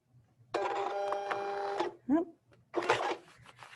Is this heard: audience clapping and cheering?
no